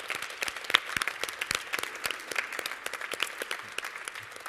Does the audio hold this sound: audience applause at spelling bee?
yes